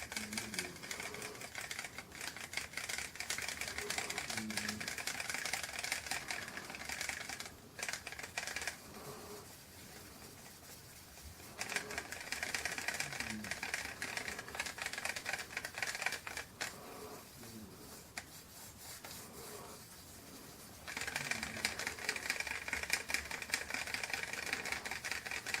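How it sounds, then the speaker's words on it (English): Acrylic paint and laundry detergent get stirred in plastic cups, a steady crackly scraping and clicking that pauses briefly a few times before resuming at close range, with no talking. "I'm sorry for the loudness of these plastic cups"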